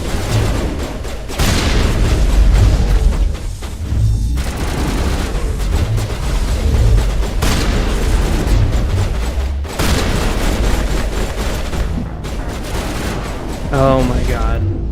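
Enemy pistols fire heavy, booming rounds in Mass Effect, in rapid overlapping volleys that sound like a loud, near firefight, with voices talking over the shots.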